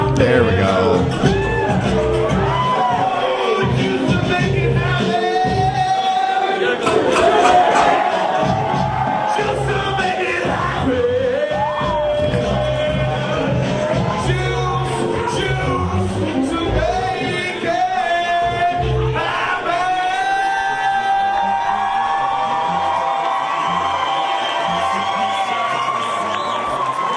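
A large crowd at a live show cheers and shouts for the whole stretch, loud and dense, with whoops and cries rising above a steady roar.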